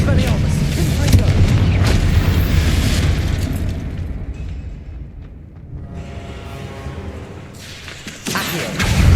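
Confringo fire-spell blasts in Hogwarts Legacy: heavy, booming explosions with rumbling debris and crackle, loud and close, one big burst at the start, a quieter stretch, then fresh blasts erupting near the end.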